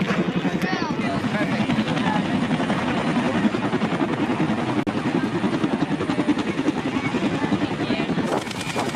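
Helicopter rotor beating steadily beside a hangar, a loud, close, continuous rhythmic chop with wind noise, a voice speaking over it throughout.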